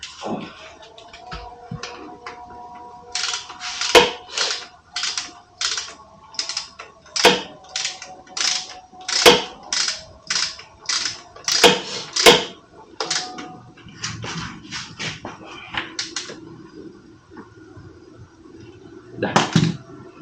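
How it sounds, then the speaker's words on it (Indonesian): Rapid repeated clicking of a ratchet wrench tightening a bolt during an oil change, in short bursts with pauses between strokes, close and crisp, with faint background noise. "Kita pakai ratchet."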